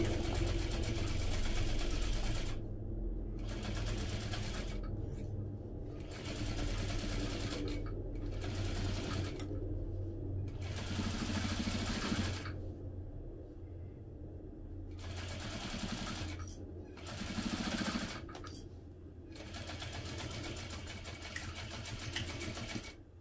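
Sewing machine stitching a seam with a 3/8 inch seam allowance, running in several steady bursts separated by short pauses, loud and close, with a low motor hum underneath.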